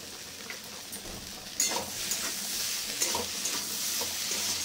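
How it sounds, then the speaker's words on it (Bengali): Vegetable dal with potato and papaya being stirred and sautéed in a pan with a little kasuri methi, giving a steady soft sizzle with intermittent scraping stir strokes, close and alone. "কসুরি মেথিটা দিয়ে একটু কষে নেব।"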